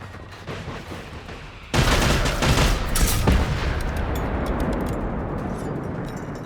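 Rockets launched in the video game Generation Zero, a sudden loud blast followed by a sustained roaring rumble and crackling bursts that slowly fade, heard alone without voices.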